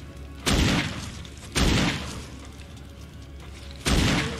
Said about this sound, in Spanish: Tres tiros de una Magnum